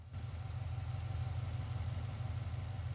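A 2012 Ford Mustang GT V8 engine idles after warming up, a steady low rumble with an even rhythmic lope, close and continuous.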